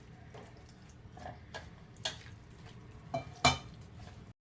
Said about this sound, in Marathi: हे सर्व जिन्नस घालून मी आता हे थोडे थोडे पाणी घालून मळून घेणार आहे